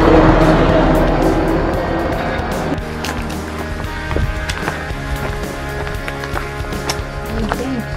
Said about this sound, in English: Is that the bus? That's the bus.